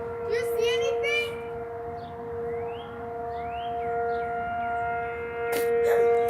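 A tornado warning siren wails in the distance with a steady rising and falling tone, while a few voices talk briefly nearby over outdoor background noise.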